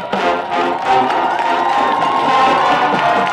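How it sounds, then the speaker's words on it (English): A crowd at a high school battle of the bands cheers and shouts continuously, loud and close, with some clapping mixed into the roar. "Please give a big round of applause to all bands performing today."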